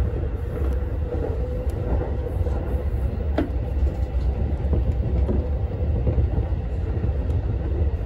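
A Keihin-Tohoku Line rapid train runs between Higashi-Kanagawa and Tamachi, giving a continuous low rumble of wheels on rails with scattered clicks and squeaks, steady and close throughout.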